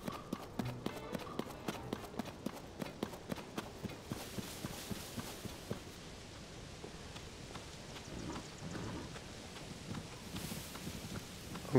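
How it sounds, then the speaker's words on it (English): Horse hooves clip-clop in Zelda: Tears of the Kingdom, a rapid, evenly spaced run of sharp hoofbeats for about four seconds, then softer, less regular footfalls over a faint rushing background. "I was gonna get that blue horse"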